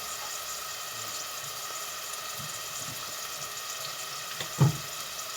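Running water splashes and trickles steadily in a sink as chopped leeks are washed, with a brief clunk of something moved in the water near the end.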